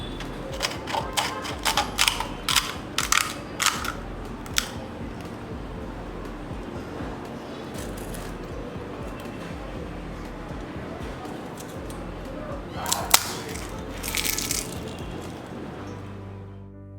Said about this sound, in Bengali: আওয়াজ শুনে নিশ্চয়ই বুঝে গিয়েছেন ফুচকাগুলো ভাজার পর কতটা ক্রিস্পি হয়েছে।